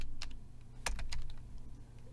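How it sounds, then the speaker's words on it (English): Computer keyboard typing while entering an invoice in accounting software: a quick run of separate key clicks, close and fairly crisp, with a brief pause between bursts and no voices. "I'm going to type in here"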